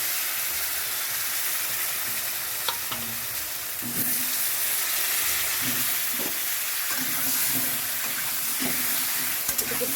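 Diced potatoes fry in a pan with a steady, dense sizzle and hiss, close by, with a few light stirring knocks and scrapes spread through.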